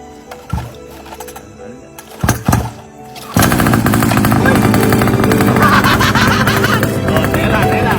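An ATV engine starts after a few brief clicks and bangs, then roars loud and steady with a dense, continuous rumble that carries to the end.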